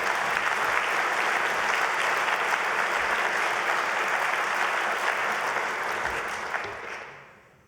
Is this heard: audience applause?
yes